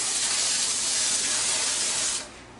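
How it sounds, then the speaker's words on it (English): Cooking spray hisses from a can onto a disposable aluminum half steam pan, one continuous close, loud spray lasting about two seconds before it cuts off. "I am going to spray my pan,"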